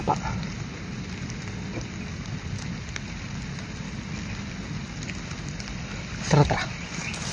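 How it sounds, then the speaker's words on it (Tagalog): Steady rain falls outdoors as a constant, close hiss that fills the whole stretch, with a brief louder knock near the end and no talk. "Ulan mga tol."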